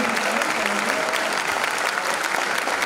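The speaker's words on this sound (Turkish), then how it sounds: "filmi uzun süre alkışladı" A packed cinema audience claps steadily and loudly at the Turkish premiere screening of the film Kuru Otlar Üstüne at the Adana Golden Boll Film Festival, with dense, sustained applause filling the hall and no break.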